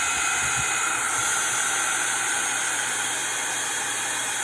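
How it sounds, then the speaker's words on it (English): Steady, loud blowing hiss with a broad airy roar, constant throughout, from a heat gun drying a paper card close by, with a few faint low thumps early on. "I'm going to have to turn on my heat gun to dry these"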